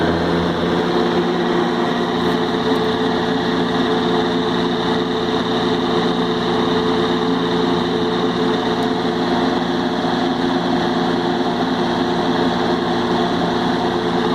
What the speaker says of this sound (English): Take it to high.